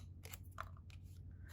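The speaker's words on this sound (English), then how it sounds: "we are just going to take a pair of scissors and just follow that line right in." A pair of scissors cuts along a marked line in a cardstock banner, making a few quick, faint snipping crunches in close succession in a quiet room.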